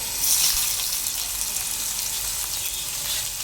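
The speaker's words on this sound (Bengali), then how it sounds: "এবার দিয়ে দেবো পেঁয়াজ কুচি" Chopped onion dropped into a little hot oil already holding whole garam masala, dried red chilies and bay leaves, for a mushroom curry: a steady, close sizzle that swells briefly near the start and then holds evenly, with no voices.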